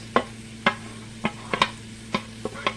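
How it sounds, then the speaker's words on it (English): Shredded carrots and green onions stirred in a pan for homemade fried rice, with a spatula scraping and tapping in sharp, irregular clicks over a faint steady sizzle, close and alone. "you want to saute that around in there"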